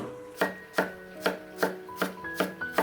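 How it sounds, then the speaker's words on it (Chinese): A kitchen knife dicing peeled potato into small cubes on a cutting board, eight sharp, evenly spaced chops close up, no voices. "最后再切成这种小碎丁"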